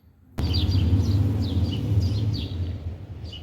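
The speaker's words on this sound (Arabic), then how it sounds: "وسمعوا الشيرات الزقزقه تاع العصافير" Small birds chirp outdoors among flowers, with repeated bright tweets in quick bursts over a low steady rumble of background noise, moderately near and continuing throughout.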